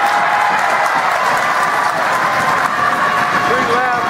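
A small crowd at a high school basketball game cheers and applauds loudly after a go-ahead shot, steady dense clapping and shouting filling the gym for the full stretch.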